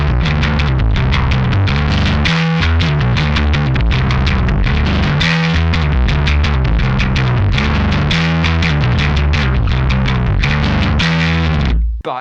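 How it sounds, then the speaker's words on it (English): Heavily distorted bass guitar through a SansAmp simulation on an Axe-Fx III chugs through a fast, rhythmic riff, loud and unbroken, with a fuzzy, saturated tone before stopping suddenly. "And you can get quite a bit of distortion out of this."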